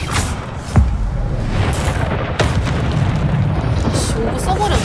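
Incendio fire spell cast in the video game Hogwarts Legacy: a sharp thump followed by sustained booming, fiery rumble, with a second crack midway through the noisy combat.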